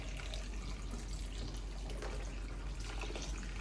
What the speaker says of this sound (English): pour the boiling water in